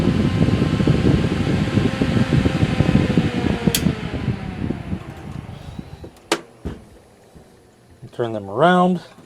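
Two all-metal solder fume extractor fans whir loudly on high for several seconds, then cut out, leaving a few clicks and a short voice near the end.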